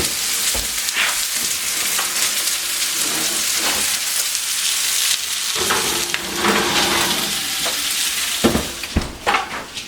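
Food sizzling and frying steadily in a pan on a home stove, a loud continuous hiss with occasional crackles and stirring clatter, no talking.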